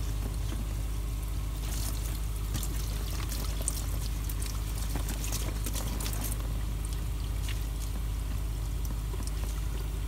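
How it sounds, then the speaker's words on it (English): Tap water running into a sink over a blue scrubbing sponge while dental casts are smoothed, a constant close pouring wash over a low hum, with no voices. "Take my blue scrubby again, put it under right under the water,"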